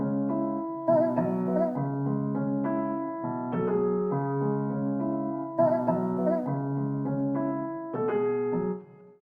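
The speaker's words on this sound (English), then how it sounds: "Then I added this piano to support the main melody." Glacier Keys piano plays repeated sustained chords with a layered Exhale vocal texture by Output in a dancehall beat, with rhythmic stabs in a looping pattern that cuts off at the end.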